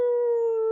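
Children imitate a hound dog's howl, their voices joined in one steady, sustained, loud tone that lasts under a second.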